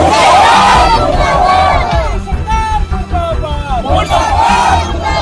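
Loud protest crowd of Marxist-Leninist party supporters in the streets of Patna, shouting and chanting slogans against inflation and unemployment, with rising and falling massed voices close by throughout.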